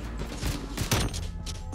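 Gunfire from a Barrett sniper rifle in an online shooter game rings out amid a dense, noisy battle mix, with a sharp loud crack near the middle.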